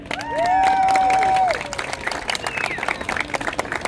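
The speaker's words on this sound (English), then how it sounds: "Can I get a massive round of applause for Adrian?" A crowd at a family show near the London Eye claps and cheers for a volunteer, with a loud whistle or squeal at first, then steady clapping and scattered shouts.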